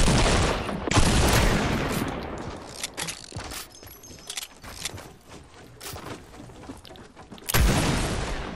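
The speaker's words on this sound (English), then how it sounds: "I can't shoot with this gun" Gunfire in Fortnite: sharp shots and bursts, loud at the start and again near the end, with scattered quieter pops and game noise in between.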